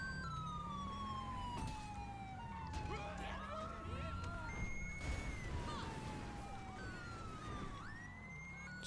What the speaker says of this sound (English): Don't mind my siren.